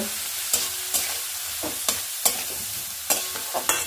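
Quinoa being stirred in a pan for a breakfast khichdi: a spoon scrapes and knocks against the pan in repeated strokes about every half second over a faint steady sizzle, close and clear, with no talking.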